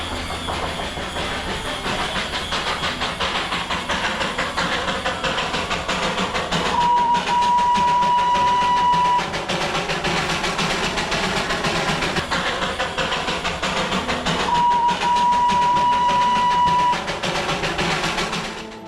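Darjeeling Himalayan toy train running, a steady rumbling, hissing rail noise with two sustained whistle tones that rise above it, fairly loud and continuous throughout.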